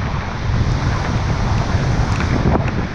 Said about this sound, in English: this rain does not give me a chance at all. And the breeze.